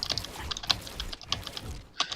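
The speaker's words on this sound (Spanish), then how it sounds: "quiero que veáis el teclado" Rapid typing on a computer keyboard during a Fortnite gaming session, a close, dense patter of key clicks with uneven rhythm and no speech.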